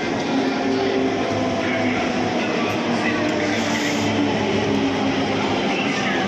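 A Delhi Metro Pink Line train gives a steady, loud rumble throughout, a continuous rolling roar of the carriage in motion with no clear breaks.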